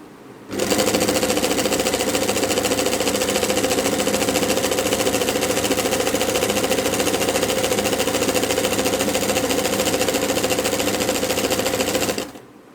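Sewing machine stitching the edge of a dupatta: a loud, steady, fast mechanical whir and needle chatter running continuously for about twelve seconds, close to the machine, with no talking.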